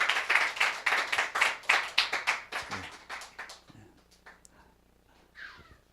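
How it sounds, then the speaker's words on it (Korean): Brisk rhythmic clapping from a church congregation welcoming a speaker, loud and fairly close at first, then thinning to a few scattered claps and fading out. "큰 박수로 우리 환영하겠습니다."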